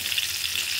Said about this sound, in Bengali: দিয়ে দিচ্ছি একটা এলাচ। বুঝতেই পারছেন আজকে কী রান্না করব। এটা প্রথমে আমি এটাকে ভেজে নিচ্ছি